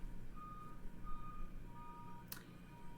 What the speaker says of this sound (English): If you hear beeping in the background, it's the trash man, trash truck.